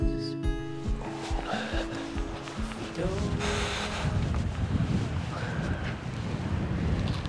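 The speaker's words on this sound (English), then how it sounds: "Oh, it's windy now." Coastal wind gusts across a shoreline on the west coast during a sea angling trip, producing a low, rumbling buffeting on the microphone that builds after a few seconds of fainter tonal sounds and carries on steadily.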